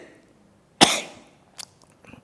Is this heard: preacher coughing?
yes